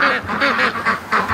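A flock of ducks on a creek quacking in rapid overlapping bursts, loud and close, with no talking.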